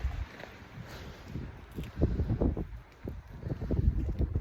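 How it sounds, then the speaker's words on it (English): Gusty wind buffets the microphone outdoors in low rumbling bursts, with rustling and footstep-like thumps mixed in. "It's so windy out here."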